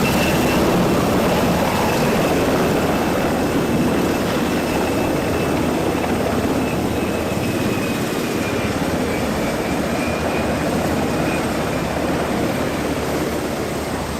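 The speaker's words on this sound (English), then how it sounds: "this wins as the most awesome helicopter that's coming into this show" A Black Hawk helicopter arrives at a show, producing a loud, steady, broadband rotor and turbine roar that holds constant and close with a faint high whine running through it; no voices.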